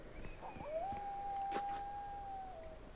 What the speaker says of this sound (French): Oh, ça y est, j'ai les chiens déjà là.